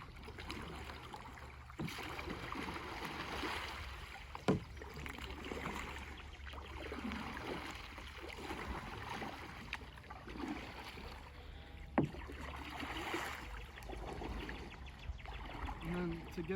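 A Kaku Kahuna kayak is paddled on water, with soft splashing and dribbling strokes and small knocks close by while a voice talks over it.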